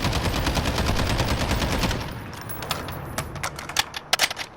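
MARSOC SCAR rifle fire in Call of Duty Modern Warfare: a fast sustained burst of sharp, closely spaced shots for about two seconds, then a few separate short bursts and clicks after a pause.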